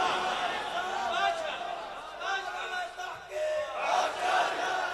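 A crowd at a religious gathering shouting slogans (naara) in unison, loud rising bursts of massed voices repeating in waves, with chatter between.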